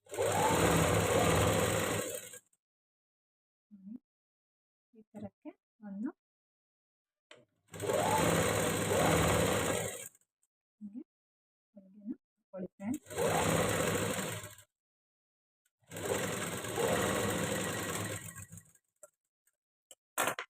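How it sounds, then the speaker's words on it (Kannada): A domestic sewing machine stitches a blouse border in short bursts, four runs of close, steady, rapid mechanical whirring lasting two to three seconds each, separated by quiet pauses with faint handling clicks and fabric rustles. "ಇದನ್ನು ಸಣ್ಣ ಹೊಲಿಗೆಲಿ ಇಟ್ಕೊಂಡು ಸ್ಟಿಚ್ ಮಾಡ್ಕೊಳ್ಳಿ"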